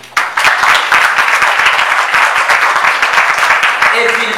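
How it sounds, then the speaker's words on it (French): Guests at a civil wedding in Gabon break into loud, sustained clapping that starts abruptly and continues evenly, with individual claps audible in the mix. "Je souhaite pour cela également qu'on applaudisse très fort pour lui."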